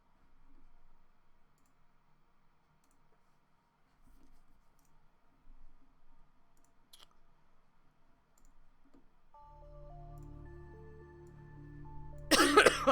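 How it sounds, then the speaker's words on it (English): A single sharp cough bursts out near the end, close and loud, following a quiet stretch with a low droning tone and faint clicks, during a Pokémon randomizer livestream. "Look out, he's got a cough"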